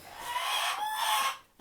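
Serama bantam chickens giving a short, close, high-pitched burst of clucking and chattering calls that lasts about a second and then stops abruptly.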